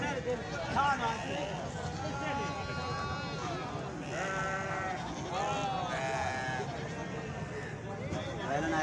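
Goats bought at the Chowk Azam livestock market bleat over and over, with loud, close cries repeating throughout. People talk and move about in the background.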